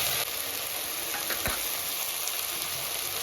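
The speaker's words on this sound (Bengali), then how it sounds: "রসুন বাটাটা দিয়ে খুব ভালো করে কষে নেব" Garlic paste, chopped tomato and spices sauté in a hot pan for a spicy snakehead fish curry, giving a dense, steady sizzle with a single stirring scrape partway through and no talk.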